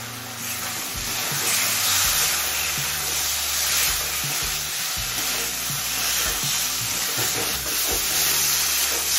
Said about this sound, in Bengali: এখন ভেজে রাখা আলুর বীজটা দিয়ে দেবো।